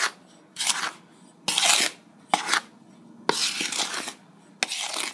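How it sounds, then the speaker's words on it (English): A spoon stirs dry flour, sugar and baking powder in a bowl, giving a series of gritty scraping strokes in separate bursts with brief quiet gaps, close and without speech. "I'm going to get a spoon and stir that."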